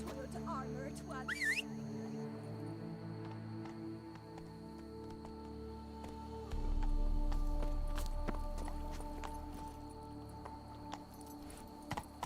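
In The Witcher 3 video game, Geralt's horse Roach gallops with a rapid, steady clip-clop of hooves that kicks in partway through over game music and ambience. A voice is briefly heard.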